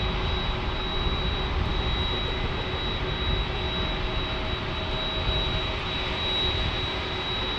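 A United Express plane arriving from LAX flies over San Diego airport, a loud, steady roar of jet engines with broad rushing noise and a thin constant whine, holding even throughout with no voices.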